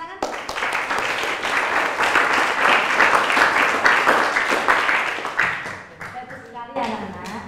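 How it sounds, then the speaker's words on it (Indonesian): Children in a classroom clap together after a student presentation, a dense burst of applause that fades out, with voices chattering through and after it. "Tepuk tangan."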